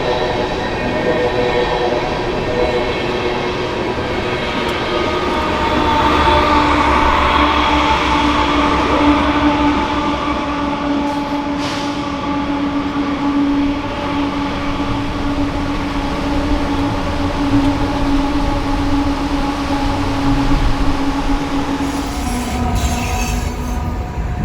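Eastbound freight trains on the Moffat Tunnel route in the Colorado Rockies, a loud steady roar of rolling cars with a sustained wheel squeal and rumble, continuous and close throughout.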